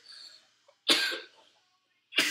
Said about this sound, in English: please excuse me for the coughing